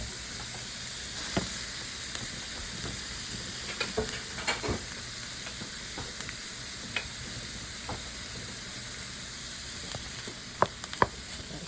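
Cabbage sautés in a hot pan with a steady, even sizzle and occasional small pops and clicks from stirring, moderately loud, with no voices.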